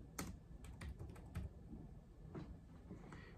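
Computer keyboard typing into an internet browser, a handful of light scattered key taps, faint and close against a low steady background hum, with no talk.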